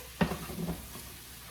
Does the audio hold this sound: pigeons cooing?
no